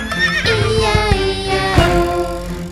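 A horse whinny sounds within a children's farm song about a farmyard, its shaky neigh riding over steady music with a beat, near and prominent, with no singing during it.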